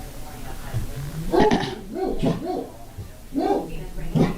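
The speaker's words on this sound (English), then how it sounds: "That's Bentley barking" Bentley the dog lets out several sharp barks and yips close by in a home, interspersed with whimpers, while a person talks nearby.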